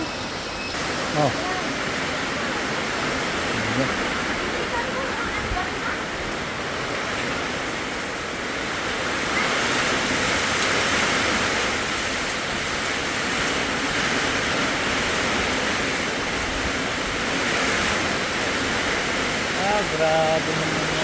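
A strong typhoon's wind and rain roar steadily as a dense, continuous wash of noise around a small hut, with faint rustling and a few brief sounds nearby.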